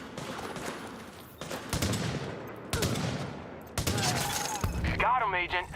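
Gunfire from The Division video game comes in several sharp volleys and bursts of automatic fire, close and loud, with game sounds and some speech-like noise between the shots.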